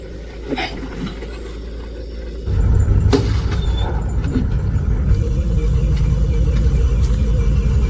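A car pulls away and departs, its engine rumble stepping up sharply partway through and holding loud and steady, with a brief clatter near the start and no talking.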